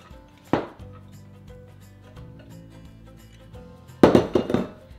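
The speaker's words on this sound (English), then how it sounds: "we have our Koji rice here and we're just gonna add it to here and we're gonna mix it up" Koji rice being mixed into a bowl for sweet white miso: a short scraping clatter, a quiet stretch, then a denser burst of grainy scraping and knocks near the end, over steady background music.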